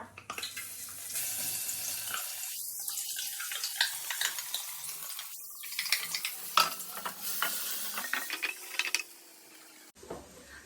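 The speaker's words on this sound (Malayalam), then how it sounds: "ഇനി നമുക്ക് ഇതിലേക്ക് ഇഞ്ചി വെളുത്തുള്ളി പേസ്റ്റ് ഇട്ട് കൊടുക്കാം" Ginger garlic paste fries in hot oil with cloves in a pan for kappa (tapioca) biriyani, a close, crackling sizzle punctuated by stirring scrapes, steady until it drops away near the end.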